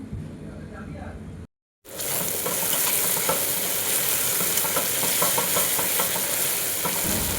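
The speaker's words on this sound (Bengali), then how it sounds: "জিরে গুঁড়ো, ধনে গুঁড়ো দিয়ে মশলাটা খুব ভালোভাবে কষিয়ে নিয়েছি" Ground turmeric, cumin and coriander powder masala frying in a pan, a steady loud sizzle with stirring scrapes that runs almost continuously after a brief silent gap near the start.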